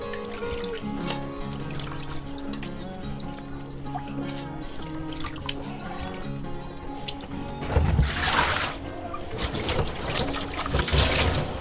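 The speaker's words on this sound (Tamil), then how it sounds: "நல்லா இப்படி அலசணும்னா அதில் இருக்க மண்ணெல்லாம் அடியில் தங்கிடும், வெறும் இறால் மட்டும் வரும்." Prawns being rinsed and swished in a bowl of water, with close trickling, dripping and splashing that grow louder and more agitated in the second half.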